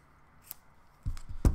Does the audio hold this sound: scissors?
yes